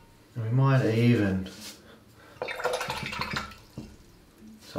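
Water splashes and drips as a paintbrush is rinsed out during a watercolour landscape session, with brief sloshing bursts after a short vocal sound at the start.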